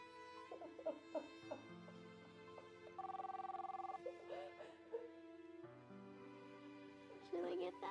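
A telephone rings faintly in a home, with a repeated electronic ring in short bursts, set amid a soft music score and a dog's whimpers.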